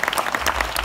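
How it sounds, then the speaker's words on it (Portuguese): A brief burst of audience applause at a gathering of popular poets, a close, lively spatter of clapping hands over less than a second. "Salva de palmas, emoção."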